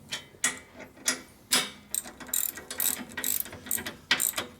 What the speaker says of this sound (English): I noticed your quality ratchet.